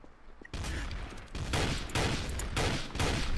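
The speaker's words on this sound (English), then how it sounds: "Look at all those bullets that god are being shot." Sustained heavy gunfire in the video game Trouble in Terrorist Town, a dense, loud barrage of rapid shots in repeating bursts that starts abruptly and continues to the end.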